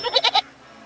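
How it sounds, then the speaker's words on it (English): A goat in the video game Reka gives a quick, nasal three-pulse bleat, close and clear, followed by quiet. "So the goat's just going to keep running away, probably."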